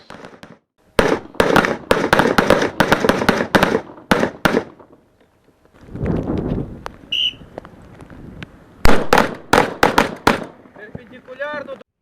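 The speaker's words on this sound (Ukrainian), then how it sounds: "Не шкодуючи патронів свого боєкомплекту, вони стріляють по умовному противнику." Rapid bursts of gunfire at a military shooting range crack close by in quick volleys at targets, pausing briefly before more sharp shots ring out; loud and sustained.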